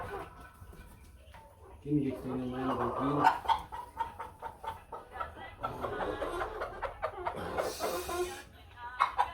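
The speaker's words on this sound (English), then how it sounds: "This is our broiler here." Broiler chickens on a poultry farm cluck and squawk close by in a busy, overlapping chorus, with a person talking over the birds.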